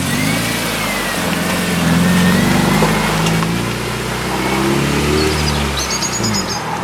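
A K20-engined EF car on a test drive, a steady mid-pitched engine drone that swells and eases with throttle under road and cabin noise, close and continuous.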